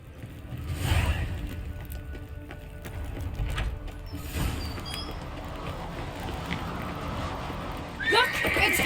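A horse in The Witcher 3 whinnies and its hooves clop over a steady bed of game ambience, with a brief sharper flurry near the end.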